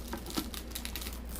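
Thin plastic saran wrap crinkles and rustles as it is handled, peeling off a newly unboxed ELEGOO Mars 3D printer, a short close and soft burst of irregular crackles.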